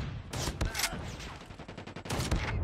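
Shotgun going off in a video game, several sharp, loud blasts in quick succession with clattering shots and effects between them, and a voice talking faintly underneath.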